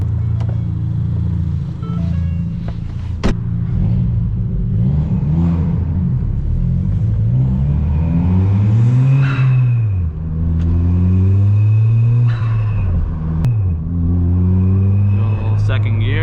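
A car on Raceland coilovers accelerates in second gear, its engine revving up through several rising and falling sweeps, loud and close, with someone talking over it.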